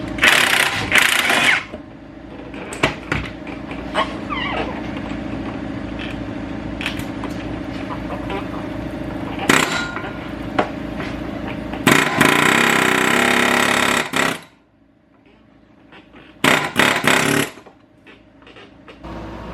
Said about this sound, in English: I like to use an air hammer.